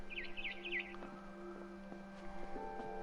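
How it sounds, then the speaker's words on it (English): Chirping birds outside a bedroom window at night in the game What Remains of Edith Finch: three quick, high twittering bursts close together at the start, then fading under a quiet tonal ambient hum. "Then I heard chirping outside my window"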